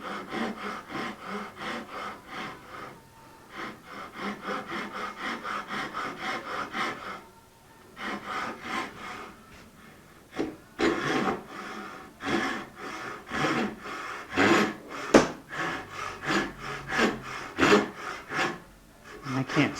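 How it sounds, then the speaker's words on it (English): A hand saw crosscuts wood in a guitar-building shop, working on an ES 335 style body, with steady rasping back-and-forth strokes, a brief pause partway, then faster, more irregular strokes. "we'll just set up for crosscut mode, and I'm going to stay kind of near but not on the line here"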